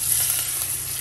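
Hot tadka tempering is poured onto brain masala and sizzles loudly and steadily in the pan, a close, constant frying hiss with no talking over it.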